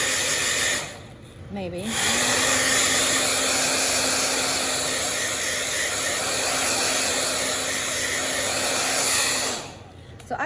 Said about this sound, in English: I'm gonna blow it dry